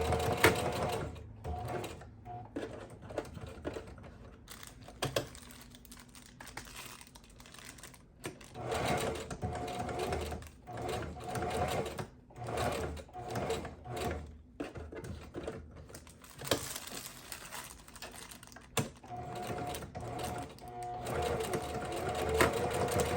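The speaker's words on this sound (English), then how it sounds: "Once I am done sewing the tag in" Sewing machine stitching a label tag into a small wig cap while making a glueless closure wig, running in steady bursts with short pauses and handling clatter between runs.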